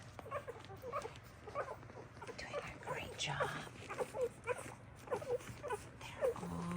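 Young mini Bernedoodle puppies whimper and squeak softly while nursing from their mother, a steady chorus of faint high cries beneath a person's close narration.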